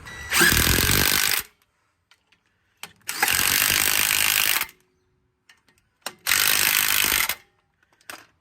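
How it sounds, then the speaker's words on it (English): Three loud bursts of an impact wrench loosening brake rotor bolts on a Mitsubishi Pajero, each about a second or more long, separated by brief silences with faint clicks. "hence why I've got the rattle gun out"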